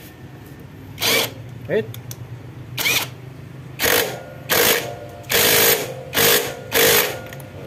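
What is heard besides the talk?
impact wrench tightening motorcycle clutch nut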